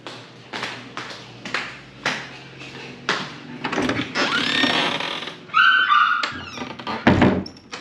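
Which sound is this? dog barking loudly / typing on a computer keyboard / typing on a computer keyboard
dog barking loudly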